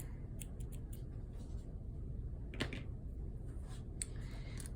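Small scissors snip embroidery thread on a felt ornament: a few soft, quick snipping clicks, faint and close, over low room hiss, with no talking.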